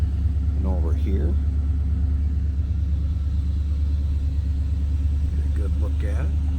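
A stock 1988 Chevrolet Monte Carlo SS engine idles with a steady deep low rumble close by, constant and even throughout, while a voice talks faintly over it.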